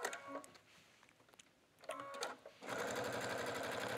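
Sewing machine couching a cord onto a faux suede collar, starting and stopping in short bursts, then running in a steady, close, rapid stitching whir for the final second and a half.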